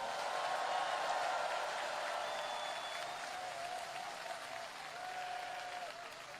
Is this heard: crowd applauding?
yes